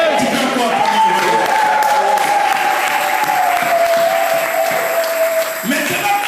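A church congregation applauds and cheers, dense continuous clapping mixed with voices and a sustained tone, loud and close throughout.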